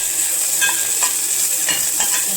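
Ginger garlic paste sizzles loudly in a pan for masala rice, a dense frying hiss that fills the whole moment, with a few soft stirring scrapes near the middle and end. Close and steady, with no talking.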